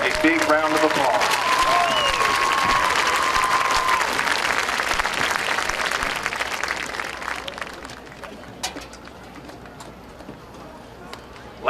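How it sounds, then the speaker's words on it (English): A crowd at a high school football game homecoming applauds loudly and continuously, the clapping slowly tapering off toward the end, with some voices and cheers mixed in. "give all our 2016 Homecoming Court a big round of applause."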